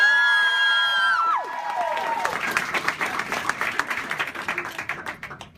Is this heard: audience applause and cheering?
yes